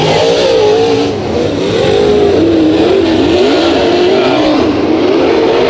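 Race cars in a heat race at Bakersfield Speedway, engines roaring continuously with rising and falling revs as the pack circles, loud and close throughout with no talk.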